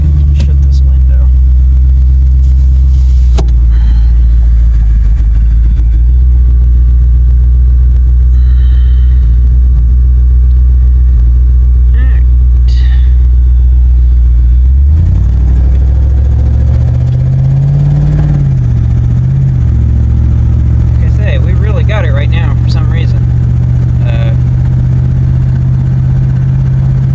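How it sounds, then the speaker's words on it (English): Wood-burning (wood gas) truck engine running loud and close, a deep steady rumble that rises in pitch as it accelerates partway through, then settles; small clicks and rattles from the cab are scattered throughout. "Truck is running right. It's got some serious acceleration."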